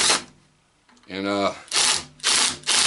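A power drill drives long screws into white oak. Short whirring bursts are broken by pauses, and one bursts rises in pitch partway through.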